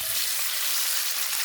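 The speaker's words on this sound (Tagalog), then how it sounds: "Iluluto ko yung beef loaf guys." Beef loaf sizzles steadily in a hot new pan, a bright, close, continuous crackle of frying with no talk over it.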